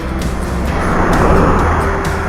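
A Jawa 42 motorcycle sets off on a ride from Bengaluru toward Coorg, heard as a loud, steady engine and wind rumble with no talking.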